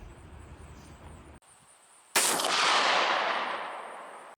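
A Remington 870 Magnum 20-gauge shotgun with an improved cylinder choke fires a single slug, one loud sharp blast outdoors that rolls off into a long fading echo after quieter ambient noise.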